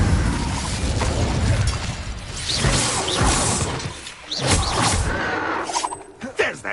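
Spell effects from the Incendio fire spell in Hogwarts Legacy on PS5: a run of whooshing, crackling bursts and impacts, with sharp bright hits near the end and no talk over them.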